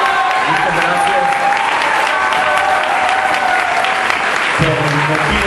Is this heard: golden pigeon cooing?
no